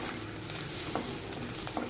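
Vegetables fry in a pan for sambar with a dense, continuous sizzle and light crackle, close and even throughout, with faint stirring and no voices.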